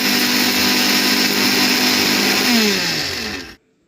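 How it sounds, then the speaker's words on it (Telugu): Electric mixer grinder whirring loudly as it grinds red chili powder with salt and cumin seeds, a steady high motor drone whose pitch dips briefly before it cuts off abruptly into silence. "దీంట్లో జీలకర్ర యాడ్ చేసుకొని ఒకసారి అయితే మిక్సీ పట్టుకోవాలండి"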